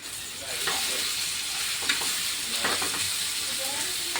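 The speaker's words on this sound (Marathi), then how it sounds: "आता याला कलसून घेऊ" Surgundya frying in a pan with sambar masala is stirred steadily, giving a continuous sizzle with soft scraping strokes of the spoon throughout.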